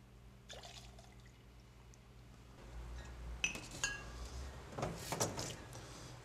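Soft liquid pour and clinks of glassware as Auchentoshan 12-year lowland scotch whisky goes into a cocktail, faint splashing with a few light taps of glass near the end.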